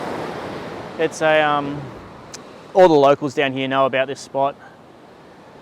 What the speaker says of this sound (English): If you see the waves come in, you'll see how frothy they are.